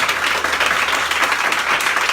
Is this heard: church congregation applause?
yes